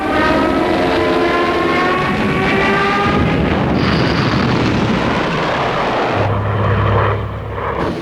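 WWII Luftwaffe aircraft engines roaring over Channel shipping, a loud continuous droning rumble with shifting engine tones and a dense noisy wash, swelling and then easing near the end.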